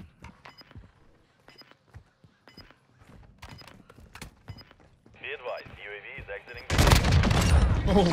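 Gunfire in Call of Duty comes as sparse, sharp single shots spaced across several seconds, followed by a sudden burst of loud, dense shooting and explosive noise near the end.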